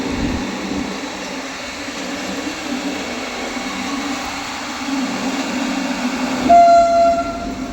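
A train pulls slowly out of Ghaziabad Junction with a steady, loud rolling rumble. A brief horn tone sounds near the end.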